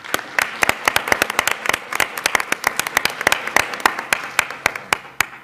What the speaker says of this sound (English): So I think we owe him a round of applause.